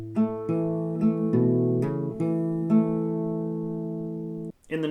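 Plucked guitar notes from a song ring out in a steady fingerpicked pattern, clean and close, overlapping into a sustained chord before cutting off abruptly.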